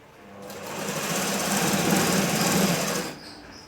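A sewing machine stitching a kunchigi, a hooded cloth cap, runs in one steady continuous burst of close, loud mechanical whirring for about two and a half seconds before slowing and stopping.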